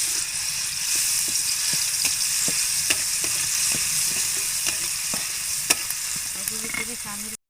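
Potato pieces frying lightly in oil in a pan for an egg and potato curry, with a steady close sizzle broken by regular scrapes and clicks of stirring.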